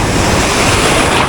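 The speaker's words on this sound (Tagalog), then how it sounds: "Uy, biglang lumaki yung alon." Sea waves growing suddenly bigger at a shore fishing spot, a loud, dense wash of surf and wind roar filling the whole moment, close to the microphone with no voices.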